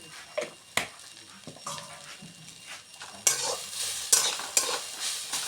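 Kalmi greens (water spinach) stir-fried in a pan, finished with a pinch of sugar: a steady low sizzle under repeated scraping stirs, with sharper spatula scrapes and hissing surges growing louder in the second half.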